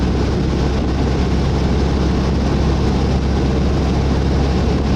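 A VW 1600 car drives along the road, its engine giving a loud, steady low drone with continuous road rumble and no talking.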